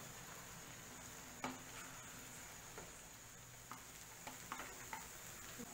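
Boiled rice tossed with spices on a hot tawa for Mumbai-style tawa pulao, a quiet low sizzle with scattered scraping taps of a spatula mixing, faint and close, no one talking.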